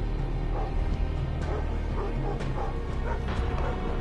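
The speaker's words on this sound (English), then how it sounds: "Oh, shut up, dog." A dog in the stealth game Thief barks and yips repeatedly over a dense, noisy background, the barks irregular and moderately close.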